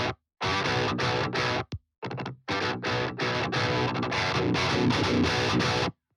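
Electric guitar played through a Bogren Digital AmpKnob BDH pedal into a high-gain 5150/6505-style tone, heavily distorted, with loud chugging riffs and chords broken by several short stops and gaps.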